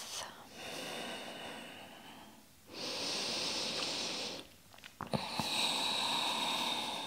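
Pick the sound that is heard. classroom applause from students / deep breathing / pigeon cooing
deep breathing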